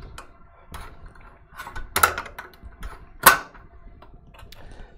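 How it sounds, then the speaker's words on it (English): An EMT16X embroidery machine stitching a vinyl patch: a run of quick mechanical clicks and ratcheting taps, with two sharper, louder clacks standing out, close by and with no talk. "We're going to take it over to the machine, and we're going to let that stitch go down."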